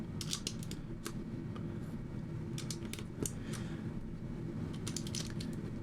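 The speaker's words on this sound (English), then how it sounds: "Now I can drop these milky keycaps in place." Milky keycaps pressed one after another onto the switches of a macro pad, giving a series of light plastic clicks and snaps in uneven bursts over steady low background hum, close by.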